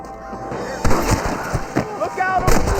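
Gunfire in a Red Dead Redemption shootout: scattered sharp shots and pops cracking irregularly over music and shouted voices.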